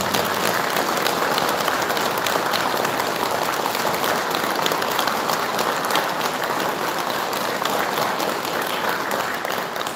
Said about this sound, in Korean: 우리 수고하신 다시 한번 회장님과 우리 의원님에게 박수 한번 드립니다.